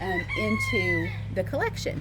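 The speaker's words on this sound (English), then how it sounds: "And you can hear the roosters in the background and all of that." Roosters crowing on a farm, long drawn-out cock-a-doodle-doo calls that overlap and rise and fall, fairly close over a steady low hum, while a person speaks briefly over them.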